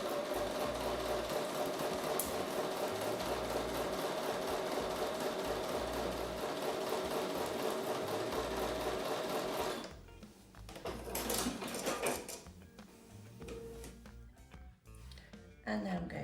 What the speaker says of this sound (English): So I'm going to take that to the sewing machine and sew with a 1/4 inch seam.